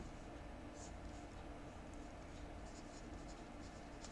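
A pen scratches out an answer by hand during a financial management class, faint steady writing under low room noise with no speech.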